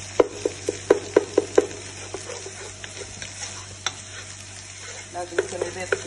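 Eggs stirred into a hot pan with saffron and cardamom for balaleet, sweet vermicelli. A quick run of sharp spoon scrapes and taps sits over a steady, soft sizzle, with a few more stirring knocks near the end.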